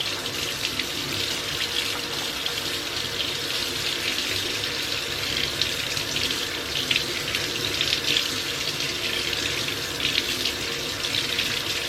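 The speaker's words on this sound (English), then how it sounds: "I'm gonna wanna rinse out my brush. I use warm water," Warm tap water runs steadily into a sink to rinse a synthetic paint brush, a continuous splashing stream with small gurgling fluctuations throughout and no voices.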